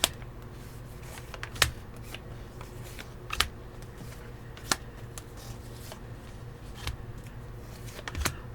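Sparse, crisp tarot card slaps and riffling snaps at irregular intervals over a quiet low hum, close and fairly soft.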